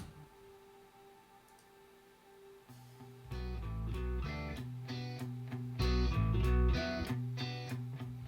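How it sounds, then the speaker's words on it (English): A short, bright guitar jingle strums in after a quiet, faint opening, with plucked chords in a bouncy rhythm and a fuller final phrase. "I made a little guitar jangly jangle."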